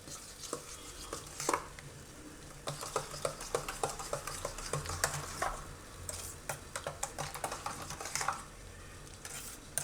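A spoon stirring sweetened curd with powdered sugar in a bowl for dahi vada, making a steady run of soft, wet scraping and clinking taps, close and fairly quiet, with no talking.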